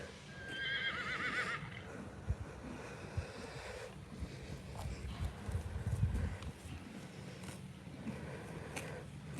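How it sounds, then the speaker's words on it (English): A mare neighs loudly close by, a rising, quavering whinny at the start, followed by shuffling hoof clip-clop and a steady background rush. "She's just a horse that I wanted to give a second chance."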